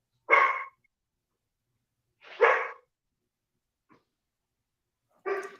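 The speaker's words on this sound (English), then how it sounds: "my dogs got really loud" Dogs barking indoors during a home live stream, three separate loud barks spaced a couple of seconds apart with silence between.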